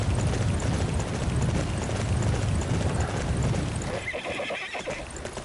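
A horse in the video game Dynasty Warriors 9 gallops with steady, loud hoofbeats and whinnies. Near the end the galloping eases into a fainter, sparser clatter.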